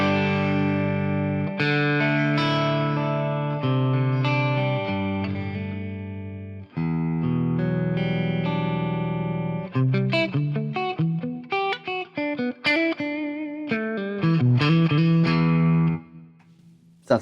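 Electric guitar through a Marshall DSL JCM 2000 amp, distorted chords ringing out first, then faster choppy riffing and single-note runs, loud and up close with no voices, ending in a sustained note.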